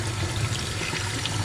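Running water pours steadily over a tie-dyed T-shirt as it is rinsed out, a close, continuous splashing rush with no break.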